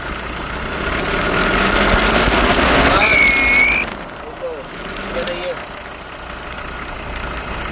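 Diesel engine of a 2018 Ford Endeavour with a noise problem, lightly revved then dropping back to idle, close up in a workshop with voices talking over it.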